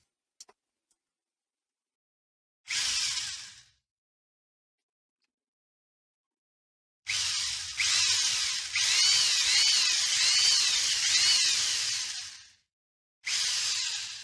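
An electric drill whines in short bursts separated by silence, drilling holes for a guitar jack plate, then runs longer with rising and falling pitch before a final short burst.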